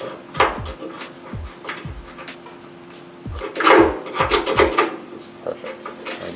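A bolt is turned by hand into a fuel tank skid bracket in a garage, with scattered metallic scrapes, rasps and small clanks at close range in irregular bursts.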